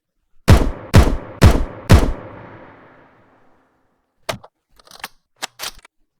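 Redesigned Vandal rifle gunshot from the game Valorant, layered with a kick drum for extra bass: four loud, evenly spaced booming shots with a long rumbling tail, followed by a few sharp, quieter mechanical clicks and clacks.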